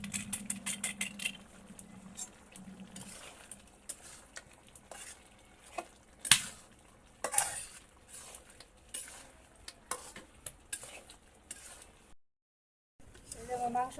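Meat cooks with biryani masala in a pot, with scattered scrapes and clinks of a spoon stirring against the metal over a soft sizzle, some stronger knocks, and a brief silent gap near the end.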